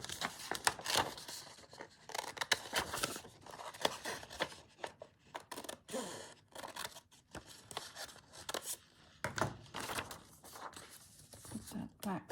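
Scissors snip out a paper piece for a Midori-style Christmas journal, with steady close cutting strokes, paper rustling and handling noises throughout.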